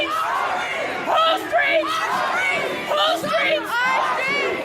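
Protesters on a street march shout and cheer together in a loud, dense crowd roar with overlapping voices, rising in waves.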